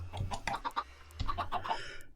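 Chickens clucking in a video game while waiting for them to grow, a quiet series of soft, rapid clucks in two short bursts over a low background hum.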